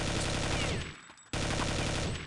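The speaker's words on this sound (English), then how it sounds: "Let's see how the M4 is on this game" M4 rifle fired in sustained full-auto bursts in the game CS:GO, a dense loud rattle of rapid shots that briefly stops for under a second before another long burst resumes.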